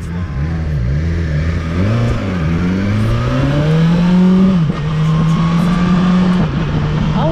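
A 2020 BMW S1000 XR motorcycle engine revs up and holds a high, steady drone, its pitch rising and dipping, loud and close throughout.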